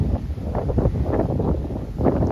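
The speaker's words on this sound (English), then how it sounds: "As you can see, it's very windy up here today." Steady low rumbling wind buffets the microphone in gusts, loud and close throughout, with no voices.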